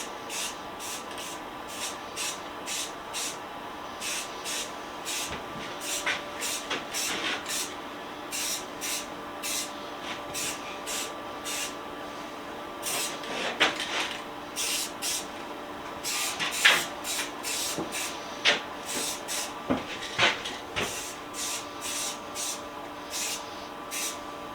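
Krylon Fusion spray paint in Satin Spring Grass is sprayed in many short, rapid hissing bursts over a faint steady hum, close and moderately loud.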